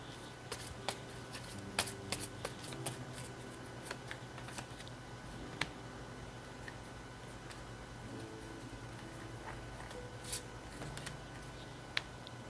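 Tarot cards being shuffled by hand, with a steady run of soft papery riffles and light taps, close and fairly quiet over a low hum and no talking.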